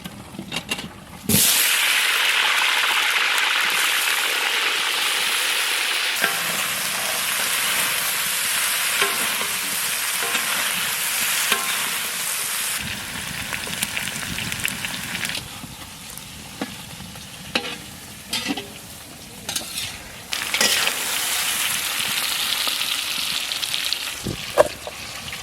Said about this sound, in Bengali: ফুলকপি ভেজে নেব।